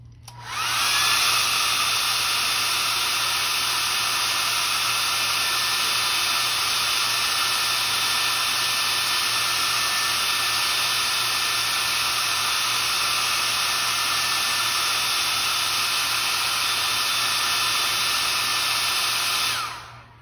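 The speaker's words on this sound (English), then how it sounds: "I'm gonna heat dry this." A heat dryer blows hard on fresh paint in one long, unbroken, loud rushing hiss that holds steady for about twenty seconds before switching off, close up and with no voices.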